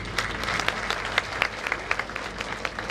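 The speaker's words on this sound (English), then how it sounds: "Another round of applause for His Excellency." Applause at a university graduation ceremony for His Excellency, a steady dense patter of many hands with sharper individual claps popping through, moderately loud and sustained throughout.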